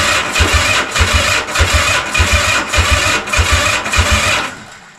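A Honda CB450 motorcycle engine cranks over on the starter in a steady, rapid chugging rhythm, loud and close, without catching, then fades out near the end.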